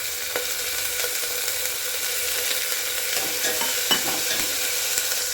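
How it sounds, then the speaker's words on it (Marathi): Cauliflower florets sauté in hot oil, giving a close, continuous sizzle broken by scraping stirs and a few sharper clinks of the spoon against the pan. No one speaks. "चांगलं परतून घ्यायचं तेल फ्लावर फ्लावर पण टाकायची लागेल"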